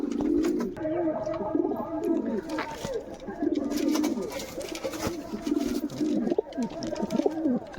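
A male pigeon coos loudly and steadily in deep, repeated rolling phrases close by, with faint chirps and other bird sounds in the background.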